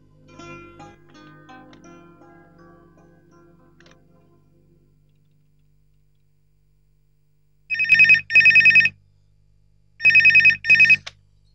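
A telephone rings twice in electronic double trills, loud and close, after a quiet stretch with faint music fading out at the start.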